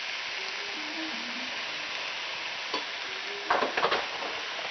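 Shrimp sizzle in a hot frying pan with a steady broad hiss, while a spatula scrapes and stirs them in a few short clatters toward the end.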